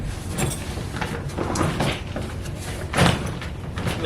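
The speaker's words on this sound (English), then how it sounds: "then just start zipping it closed" A ZiZZO bike carrying bag is zipped shut around a bicycle, a close, continuous raspy zipper sound that surges in several pulls over a few seconds.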